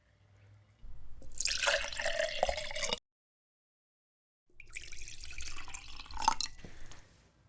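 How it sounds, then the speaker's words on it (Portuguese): Water poured into a glass, captured with a basic microphone: two separate close pours of splashing, trickling liquid, each a couple of seconds long, divided by a stretch of silence. "um primeiro exemplo gravado com um microfone simples de uma água caindo em um copo"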